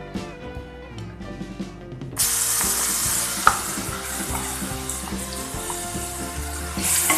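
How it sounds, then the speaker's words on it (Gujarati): Asafoetida and garlic dropped into hot oil in a kadai, a sudden loud sizzle that starts partway in and keeps hissing steadily, close up, with a faint clink of a spoon. "હવે તેલ ગરમ થાય એટલે તેમાં હિંગ નાખીશું, લસણ નાખીશું"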